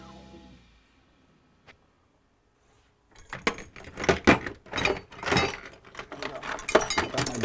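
Metal bolts for a tail rotor fan clink and jangle in a hand, up close. A few quiet seconds with a single small tap come first, then a busy burst of rattling.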